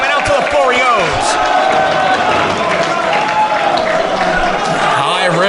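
A wrestling crowd at a DGUSA title match roars and cheers loudly and continuously, a dense sustained wash of noise with a commentator talking over it.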